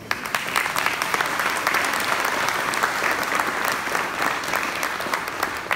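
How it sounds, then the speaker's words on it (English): Audience applause at a choral concert of carols, a steady wash of many hands clapping that holds evenly loud for several seconds, with no talk over it. "Give him another round of applause."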